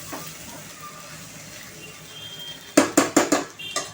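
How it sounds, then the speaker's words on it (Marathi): Rice sautéing in oil in a pan for coconut rice (narali bhat) starts as a faint hiss, then a spatula strikes and scrapes the pan in a quick run of loud, close clanks. "पहा आता आपण छान असा हा जो तांदूळ आहे हा छान असं तेलावरती परतायचा आहे"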